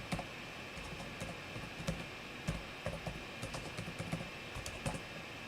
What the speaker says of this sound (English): I'm going to also type this